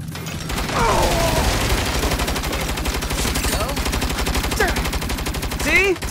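A mounted turret machine gun in the Saints Row game fires a long, steady, rapid burst that runs almost without a break, loud and close, with voices speaking over the gunfire.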